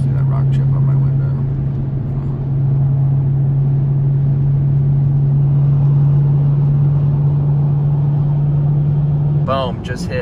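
A car cruises at highway speed around 90 mph, its steady low engine and road drone holding constant throughout, with a brief voice near the end.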